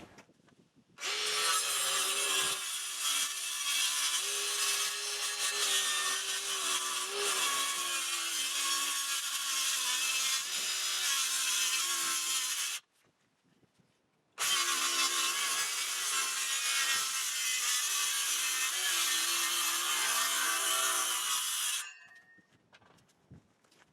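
Someone saws a cedar board along a guide rail, a steady loud rasping stroke noise running for about twelve seconds, a brief pause, then another long stretch of sawing before it stops.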